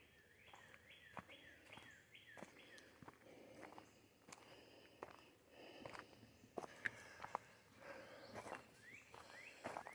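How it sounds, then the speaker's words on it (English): Birds chirp in short repeated phrases at a state park, Panther Creek, faint and somewhat distant, mixed with footsteps crunching along a trail. "Hear the birds singing."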